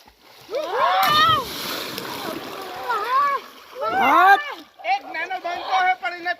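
Bursts of water splashing at a water park mix with excited shouting and chatter from several people close by as they jump into cold water.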